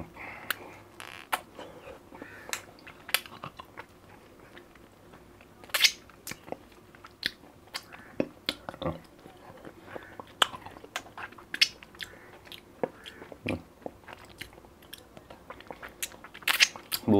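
Crunchy bites and chewing on a blueberry, mango and strawberry lollipop, with sharp close cracks and smacking at an irregular pace throughout, no talk.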